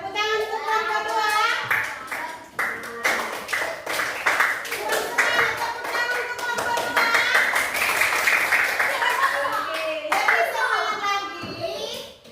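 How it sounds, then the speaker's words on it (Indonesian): An audience, including children, claps in bursts at a school presentation, irregular sharp clapping mixed with lively children's voices and chatter throughout. "Tepuk tangan untuk yang kedua"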